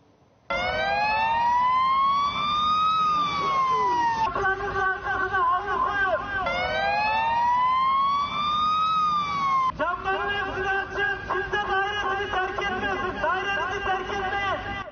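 Fire engine sirens wail at a high-rise residential building fire, loud and close, cycling through rising wails and then switching to a rapid yelp pattern, with faint crowd babble underneath.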